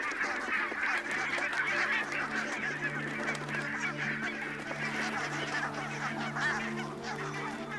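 A large flock of barnacle geese honking continuously, a dense chorus of overlapping calls that stays steady and fairly distant.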